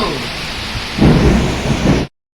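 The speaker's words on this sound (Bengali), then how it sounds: "আল্লাহ কি বৃষ্টি রে বাবা কি ঝড়" Heavy rain roars steadily in a Kalbaishakhi (nor'wester) thunderstorm, while a deep rumble of thunder swells loudly near the end before cutting off abruptly.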